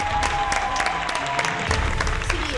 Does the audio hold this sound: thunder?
no